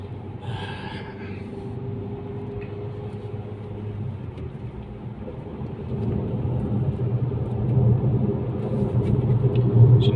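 A Fiat Egea Cross 1.4 is floored in fifth gear, its engine giving a steady droning rumble with road noise that slowly swells louder as the car gains speed.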